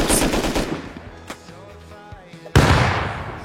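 Gunfire in the Rust survival video game, with loud rapid bursts at the start, a single sharp crack near the middle and another heavy burst toward the end, with quieter clatter between.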